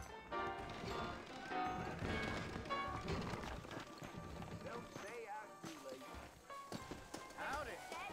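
Horse hooves clop steadily with occasional whinnies in Red Dead Redemption, mixed with background music and people talking throughout.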